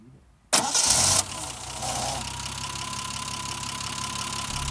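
A 1975 Triumph TR6 with a 2.5 liter engine cranks briefly and fires, revving loudly for a moment before settling into a steady, close idle.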